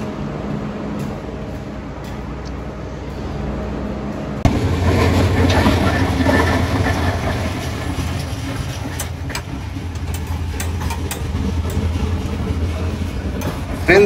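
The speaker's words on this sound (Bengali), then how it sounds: "এই দেখো একটা ট্রেন ক্রসিং এ যাচ্ছে" A train passes a railway crossing near Joydebpur station at night, a steady loud rumble that swells suddenly and holds, with faint clicks over the top, heard from aboard a waiting Padma Express.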